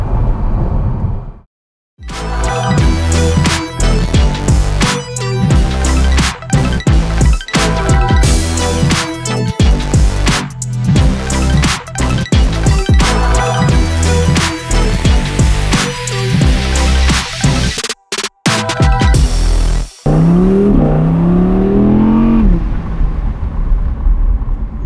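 Audi R8 V10 Spyder Performance engine with the roof open, roaring loud and close for most of the stretch, with revving bursts, short gaps between gear changes and a final rising howl near the end.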